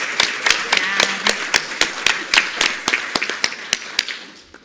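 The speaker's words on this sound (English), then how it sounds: "Join me in giving them a round of applause." Conference audience applause, heard as a few sharp, distinct hand claps in a fairly regular rhythm, close and loud, fading out at the end.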